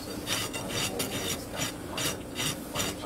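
A brand-new rasp is filing a horse's front hoof during trimming, with about eight rhythmic scraping strokes close up, each a short harsh rasp with brief pauses between.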